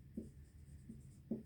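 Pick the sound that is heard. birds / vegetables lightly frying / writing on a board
writing on a board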